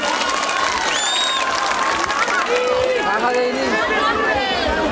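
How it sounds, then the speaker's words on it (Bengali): Audience applause at the Taki rural culture book fair (Taki Boi Mela) for actress Kironmala, a steady wash of clapping blended with crowd chatter, scattered voices and whistles throughout. "সবার হাত জোরে হাততালি"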